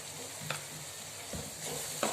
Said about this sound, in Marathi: हे छान परतून घेते